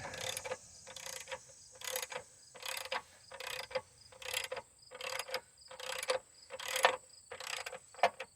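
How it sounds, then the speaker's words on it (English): Crescent wrench ratcheting a rear shock bolt tight while Rancho RS5000X rear shocks are installed, with a steady run of about a dozen metallic clicking turns at an even, regular rhythm, close and clear. "I'm going back to the crescent. I'll get it cranked down."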